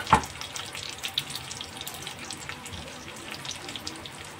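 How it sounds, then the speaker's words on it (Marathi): Medium-sized onion dropped into hot oil for a Kolhapuri rassa, giving a steady, close hiss of sizzling that swells at the start and then holds as a continuous bubbling crackle with no talk. "तेलामध्ये आपण टाकणार आहोत कांदा."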